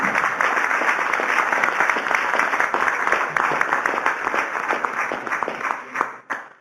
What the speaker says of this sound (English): Let's give Kirk a round of applause for his presentation.